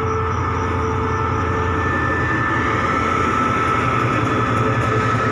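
Special express train QSY 5239 Uttarawithi 10 pulls into Chum Saeng station as a loud, steady rumble with a faint high whine running through it, and no talk.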